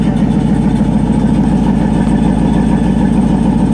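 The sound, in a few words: classic Buick car engine idling, throaty exhaust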